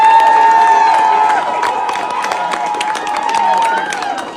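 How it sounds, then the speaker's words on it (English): Crowd applauding and cheering after a political rally, a busy mix of claps and shouts with a sustained tone at the start, under someone talking over it. "They're applauding."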